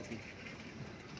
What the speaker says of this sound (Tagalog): LRT yan.